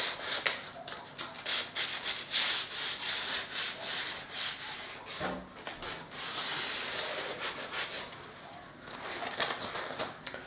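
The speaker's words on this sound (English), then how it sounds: "I can now just sand the areas where that foam was" Old paintwork being hand-sanded with 120 grit sandpaper: repeated rhythmic scratchy strokes, close and moderately loud, running throughout with a brief pause midway.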